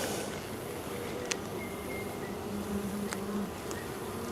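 Honey bees buzz steadily around an open hive during a brood inspection as frames are handled, a close, continuous drone with a few sharp clicks and knocks.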